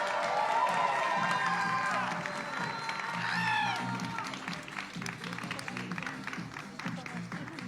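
A demo day audience at a leadership institute claps and cheers. Whoops and raised voices ride over sustained applause early on, then the clapping continues more evenly as the shouts fade.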